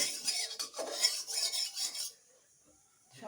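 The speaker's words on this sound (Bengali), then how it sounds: "তেলটাকে ভালোভাবে কড়ার মধ্যে লাগিয়ে নিচ্ছি।" A spoon scraping and rubbing around the inside of a metal kadai to spread a little oil, several close rasping strokes over about two seconds, then near silence.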